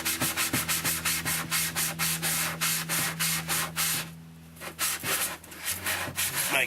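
Rhythmic back-and-forth strokes of a hardware-store sanding block scraping across a kayak surface, steady and close, with a brief pause before the rubbing resumes.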